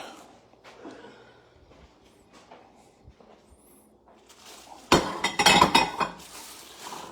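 Plates and dishes handled in a home kitchen: soft scattered clinks at first, then a loud flurry of clattering crockery and cutlery in the last couple of seconds, close by.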